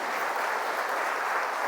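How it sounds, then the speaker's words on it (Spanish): Brief burst of dense congregation applause in a church, many hands clapping loudly and evenly for under two seconds. "Denle un aplauso a la palabra de Dios."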